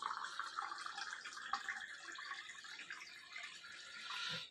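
Filtered water from a Vestige Sharp purifier streams into a cup, a soft continuous trickle and splash that is faint and close. It runs steadily with no talk and tapers off at the end.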